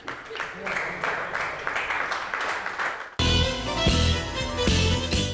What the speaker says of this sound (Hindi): इनके लिए तालियां बजती रहनी चाहिए